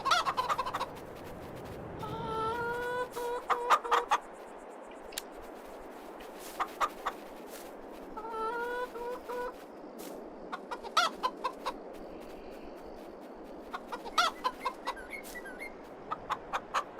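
Chickens cluck and cackle in a Farming Simulator 22 farmyard, bursts of clucks and squawks coming in short irregular clusters over a quiet background, fairly close and clear.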